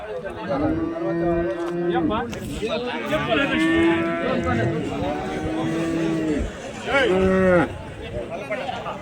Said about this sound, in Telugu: అన్ని హెచ్ఎఫ్ దూడలు, జెర్సీ దూడలు ఉంటాయి ఇక్కడ అంతా